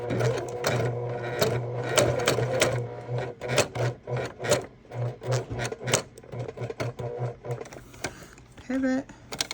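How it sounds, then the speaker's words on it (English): A sewing machine runs in pulsing bursts as it stitches over a seam on a bag, its rhythmic mechanical chatter close and steady, with a brief tonal sound near the end. "stitch right over that seam"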